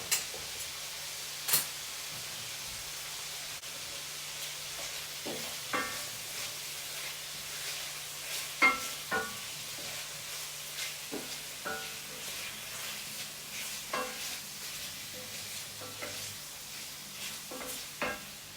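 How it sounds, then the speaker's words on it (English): Chicken and onions browning in a pan, making a quiet, steady sizzle with occasional soft clinks and stirring taps spread through the stretch. "while it's browning and the onions continue to soften"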